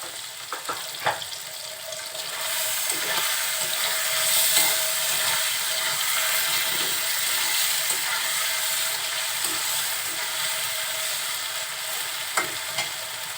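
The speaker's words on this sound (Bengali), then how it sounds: "কাঁচা মশলার যাতে কোনো গন্ধ না থাকে এজন্য তেলের সাথে খুব ভালোভাবে নাড়াচাড়া করে নিচ্ছি" Ginger and garlic pastes stirred into hot oil alongside prawns in a pan, a steady close sizzle running throughout with occasional scrapes of the spoon against the pan.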